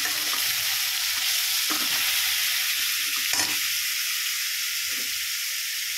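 Food sizzles and fries steadily in a hot pan while a spoon stirs it, with soft scraping bursts breaking through the constant close, bright crackle and no one talking.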